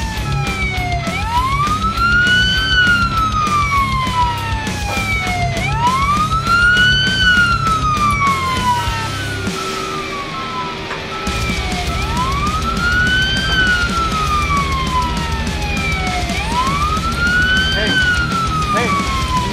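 Wailing police siren in the Police Simulator game, rising and falling in four long sweeping cycles, loud and continuous with a steady low engine hum underneath and a brief dip midway.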